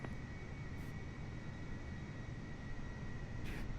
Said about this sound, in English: Ahorita estamos viendo a los demás que están aterrizando.